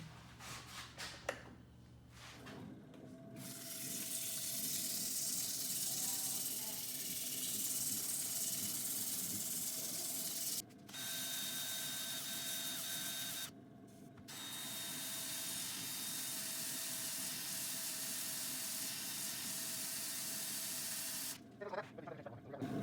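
A segmented wooden bowl is sanded with 80 grit sandpaper in a long, steady rasping hiss. The sound stops briefly a few times and then resumes, fairly quiet and unaccompanied by talk.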